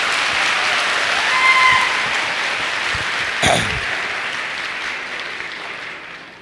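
Loud audience applause fills a motivational success seminar hall, a dense steady wash of clapping that holds strong for several seconds before gradually tapering off.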